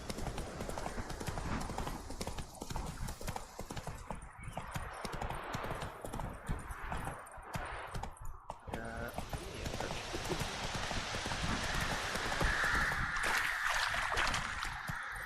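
Roach, Geralt's horse in The Witcher 3, galloping with fast rhythmic hoofbeats that run steadily throughout, alongside game ambience and occasional voices.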